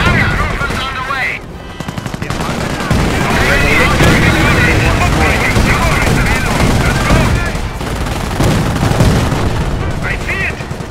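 Dense gunfire in Company of Heroes: Opposing Fronts, rapid machine-gun bursts and rifle shots with booms, loud and continuous, with shouted voices over the battle.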